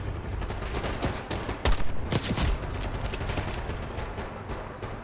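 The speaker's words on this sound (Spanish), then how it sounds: "Tres disparos nomás." Gunfire in the Call of Duty Black Ops 6 campaign: a few quick shots crack out over a dense battle din, loud and close, with the firing clustered in the middle of the stretch.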